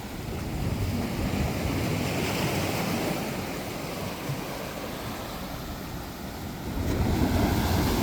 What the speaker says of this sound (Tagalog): yung napakagandang tunog na hampas ang alon